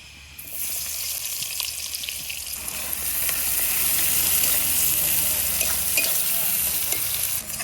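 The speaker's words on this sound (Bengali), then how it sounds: "পেঁয়াজটা সুন্দর করে ভেজে নিয়েছি" Chopped onion and cumin seeds fry in hot oil, a loud, dense sizzle that flares up right after a quiet start and keeps rising into a steady, bright crackle.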